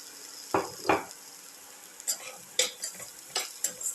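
Shallots, garlic, ginger and salt sauté in a pan under a low sizzle, punctuated by repeated sharp scrapes and taps of a utensil stirring, irregular and close.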